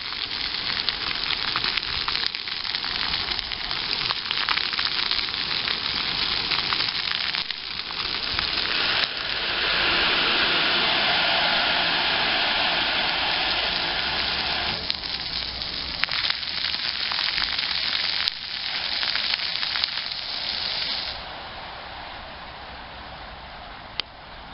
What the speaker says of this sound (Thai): ฝนก็ปล่อยๆด้วยดูสิ